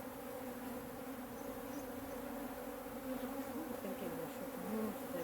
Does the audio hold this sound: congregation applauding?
no